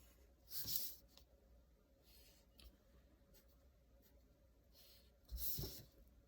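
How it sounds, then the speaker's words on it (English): A fat Sharpie marker traces over pencil lines on paper: soft, faint squeaky strokes, with two louder scratchy bursts near the start and end and quieter scribbles between, all in a quiet room. "I'm going to trace over the whole entire thing, all my pencil lines."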